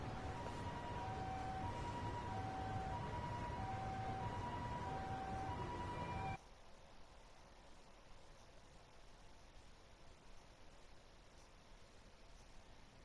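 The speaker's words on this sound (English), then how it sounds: "Siren." Siren in Lost Judgment wailing in a steady, repeating rising-and-falling pattern for about six seconds, then cutting off abruptly into quiet background hiss.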